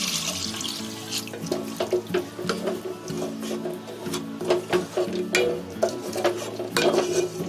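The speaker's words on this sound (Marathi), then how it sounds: "आता याच्यामध्ये आपल्याला दूध ओतायचं आहे." Milk pours into a pan of fried masala for a spicy green egg malai curry, a steady liquid splash and gurgle with scattered clinks and stirring taps throughout, close and fairly loud.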